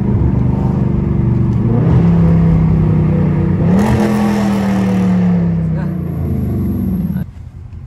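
Catless Chrysler 300 SRT engine loudly revving and rising in pitch on a downshift, a deep droning roar from inside the car that climbs then holds, with people talking over it.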